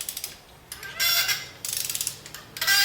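A ratchet torque wrench turns a spark plug into a Ford 4.6L 3V engine, giving close, crisp bursts of rapid clicking separated by short pauses.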